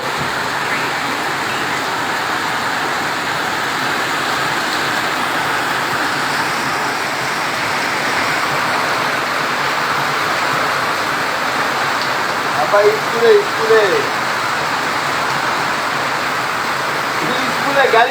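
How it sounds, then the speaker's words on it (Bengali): Steady, dense rainfall at night in Naria, Shariatpur, a continuous close hiss of drops on surfaces with a few faint knocks near the end; people talk over it. "রাত্র এগারোটার সময় শুরু হয়েছে বৃষ্টি এবং বৃষ্টি কিন্তু ঝরছে"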